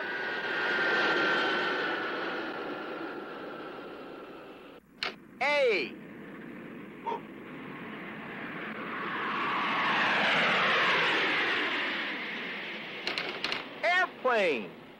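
An airplane flies overhead in a Sesame Street episode, a broad roar that swells and fades, with chirpy whistles and voices breaking in between.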